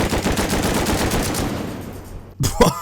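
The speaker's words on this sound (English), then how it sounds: "Let's try and use the LMG." An LMG machine gun fires in Rust Console as rapid, sustained automatic bursts that fade out, followed by a brief pause and a few more sharp shots near the end.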